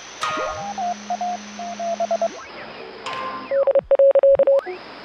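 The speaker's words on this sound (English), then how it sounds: "I imagine that's Morse code" Radio in the video game Oxenfree sending Morse code: several short, clipped beeps in rhythmic groups, separated by brief sweeping tuning tones and static, clear and close.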